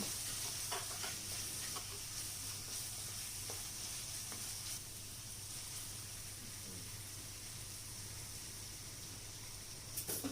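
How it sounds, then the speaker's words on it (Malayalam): Carrots sautéing in a pan for chicken kanji, a soft continuous sizzle and hiss with a few faint stirring scrapes, quiet and steady throughout with no voices. "ക്യാരറ്റ് ഇട്ട് കൊടുക്കുക. എന്നിട്ട് വീണ്ടും ഒരു 2 മിനിറ്റ് വഴറ്റുക."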